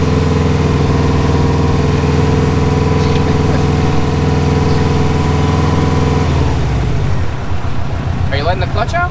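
A manual-transmission car engine idles steadily in a low hum, then its tone drops and roughens near the end as the car is eased toward gear, with people talking over it.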